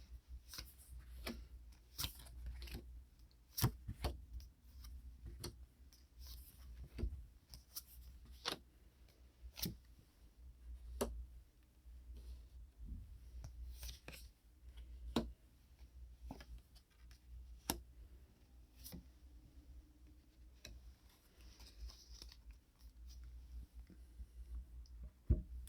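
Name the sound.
tarot cards being dealt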